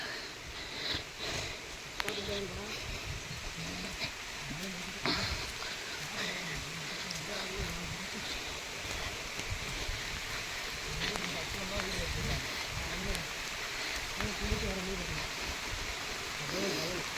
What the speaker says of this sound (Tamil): மழை நல்லா பெய்யுதுங்க பாருங்க, தண்ணி போய்க்கிருக்கு மழை பெஞ்சு.